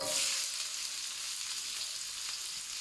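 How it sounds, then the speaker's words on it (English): Onions, chilies, garlic and ginger sizzle hard in smoking hot oil in a wok for Thai style crispy pork, a loud, steady broadband hiss that continues unbroken, with no voices. "It's smoking hot. So just move your oil around a little bit. And you drop in your onions, chilies,"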